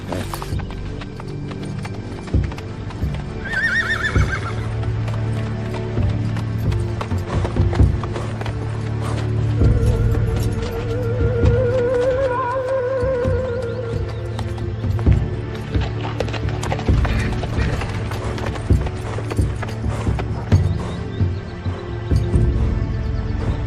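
Steady clip-clop of horse hooves trotting throughout, with a horse whinnying partway and music playing underneath.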